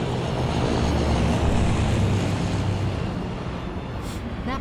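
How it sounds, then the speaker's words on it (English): A C-130 cargo plane flies overhead in the zombie shooter Left 4 Dead 2, a steady, loud low propeller-engine drone that swells and then slowly fades away, with no voices. "That plane's headed right for the airport."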